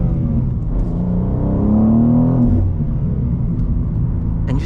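A 2023 BMW M2 with a manual gearbox and a turbocharged engine accelerates hard, a loud close engine note rising in pitch and then easing, heard from the cabin without talk.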